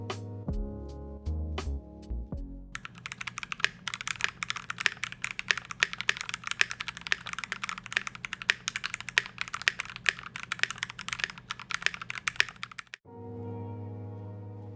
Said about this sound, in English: As you heard, the brass plate was really muted and you also had a bit of case ping there, but that spacebar sounded really nice.